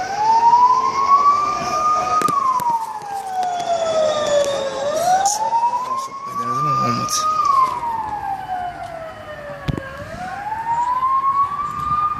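An ambulance siren wails, rising and falling in slow, repeated cycles, loud and close, stuck in traffic with a few horn blasts and street noise around it.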